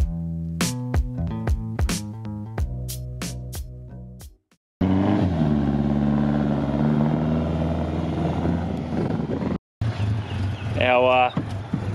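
A Toyota KE38 Corolla with twin Weber carburettors revs hard toward 9000 rpm, starting with sharp repeated throttle blips, then a sustained loud engine roar with a brief cut and a rising final rev.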